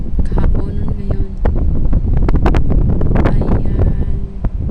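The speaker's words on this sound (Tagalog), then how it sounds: "Ganito kalakas ng hangin ang ating kahaponon ngayon." Strong afternoon wind buffeting the microphone, heard as close, loud gusty rumbling and roaring that rises and falls in bursts, with voices faintly mixed in.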